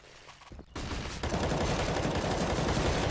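Sustained automatic gunfire in Counter-Strike on the Cobblestone map during a competitive esports match, starting with a couple of sharp shots and then swelling into a dense, loud continuous burst of rifle fire with no talk.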